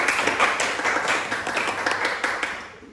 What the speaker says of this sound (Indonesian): Beri tepuk tangan buat teman-teman